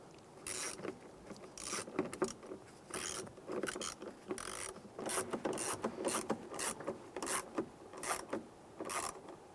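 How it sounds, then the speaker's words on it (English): Screw being driven and snugged down on interior trim of a 1995-2001 Ford Explorer near the rear door seal, a close, ratcheting click-and-rub sequence of short repeated bursts with brief pauses between turns. "let's go ahead and get that screw started and get that snugged down."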